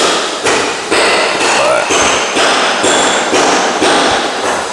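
Hammer blows ring out at a construction site, loud and close, falling in a steady rhythm of roughly two strikes per second with no pause across the stretch.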